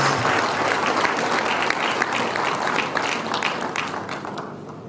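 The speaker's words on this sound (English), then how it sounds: "Can we please give her a big round of applause?" Loud, steady audience applause at the opening procession of the 2017 Nigerian Psychological Association congress, many hands clapping together in a dense, continuous roar that tapers gently near the end.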